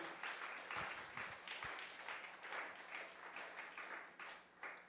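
Church congregation at a sermon applauding, a faint, steady wash of many hands clapping in rhythmic swells heard from a distance, with no speech over it.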